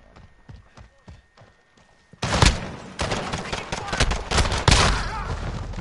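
Heavy, rapid gunfire in Call of Duty Modern Warfare bursts in loud and close after a short stretch of quieter talking, then continues in dense, crackling volleys to the end.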